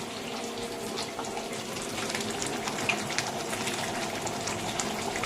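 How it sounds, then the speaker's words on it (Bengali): Water is poured steadily into a simmering egg and potato curry cooking with fennel seeds, a continuous close splashing rush over faint sizzling, with no talking. "এবার আমি এর মধ্যে একটুখানি জল দিয়ে দেবো আর একটু নুন দেবো"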